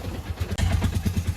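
Auto-rickshaw engine during a ride on a rainy road, a close, rough putter that pulses in quick regular beats with a short dip partway through.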